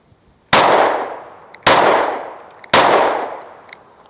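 Three loud, close gunshots from a PSA Micro Dagger pistol fed from an OEM Glock magazine, each a sharp crack ringing out and fading over about a second, spaced roughly a second apart.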